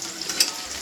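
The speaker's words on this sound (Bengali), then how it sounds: "পেঁয়াজটা এখন হালকা হালকা করে লাল লাল করে ভেজে নেবো" Onion frying in a pan until lightly browned, giving a short, steady bright sizzle with a little stirring clatter, close and alone.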